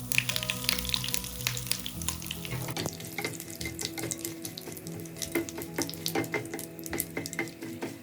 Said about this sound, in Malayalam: എണ്ണ ഒന്ന് ചൂടായതിന് ശേഷം അതിലേക്ക് കുറച്ച് കടുക്, ജീരകം, വറ്റൽമുളക്, പിന്നെ കുറച്ച് കറിവേപ്പില കൂടി ഇട്ടിട്ട് നമുക്കൊന്ന് നല്ലോണം സോട്ട് ചെയ്തെടുക്കണം